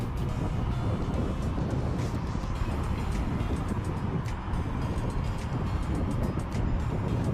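Dual-motor Ultron Ultra electric scooter ridden fast at around 30 mph, with a steady loud roar of wind and road rumble that stays constant throughout.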